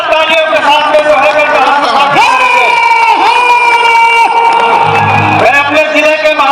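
A large outdoor political rally crowd cheers and shouts loudly and steadily throughout, with whoops and sustained tonal noise from a music or PA system, greeting a popular singer and MP arriving at a gathering in Ghazipur.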